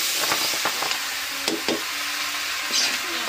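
Bottle gourd going into very hot oil over a wood-fired stove, a loud steady sizzle broken by a few sharp clanks and scrapes of a spatula stirring, close by with no voices.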